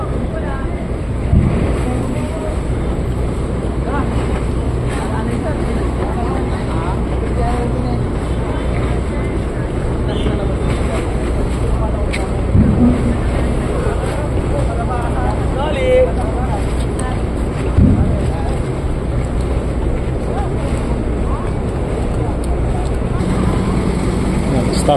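RoRo ferry S.Reliance from Odiongan arriving at port with buses aboard, amid strong current, a loud steady rumble of wind, water and engine noise, with people talking nearby throughout.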